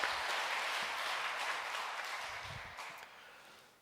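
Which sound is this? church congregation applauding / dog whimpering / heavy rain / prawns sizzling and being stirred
church congregation applauding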